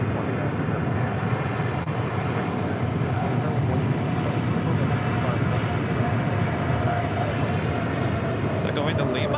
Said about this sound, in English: This is China Southern Cargo 2537 coming in from Anchorage, Alaska on a 777 freighter